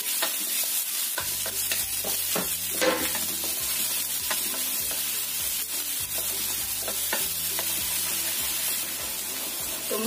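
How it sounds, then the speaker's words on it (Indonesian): Shallots, garlic and chili sauté in a hot pan with a constant bright sizzle, stirred in regular rhythmic scrapes of the spatula, close and loud without talk. "Ini kita masukkan bawang merah, bawang putih, dan cabai. Kita tumis sampai matang."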